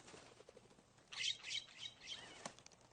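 Nutcrackers foraging for pine seeds on the ground give a faint, brief flutter of wings and rustling with a few soft chirps, distant and quiet.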